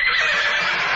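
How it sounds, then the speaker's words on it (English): A horse neighs in a loud, sustained whinny, brief and close, with nothing else behind it. "we'll insert the actual neighing of horses."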